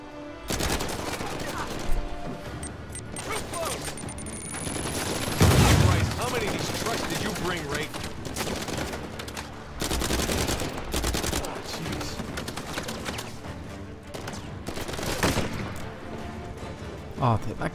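Sustained machine gun fire from an enemy buggy in Uncharted 4, loud, continuous rattling bursts running throughout with a heavy impact near the middle, someone talking over it.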